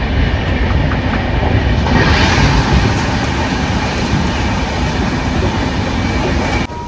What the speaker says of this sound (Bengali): সবেমাত্র এখন স্পিড নিয়েছে ট্রেন